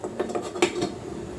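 A pot lid clinks onto a cooking pot, a few quick metallic knocks ending in one sharper ring, close and short against a quiet room.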